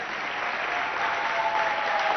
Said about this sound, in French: Je vous demande, chers enfants, chers amis, d'applaudir bien fort les 2 membres du jury.